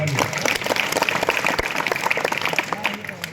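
A wrestling tournament audience claps in a dense, lively burst of applause, close and loud, lasting the whole moment, with a voice faintly under it.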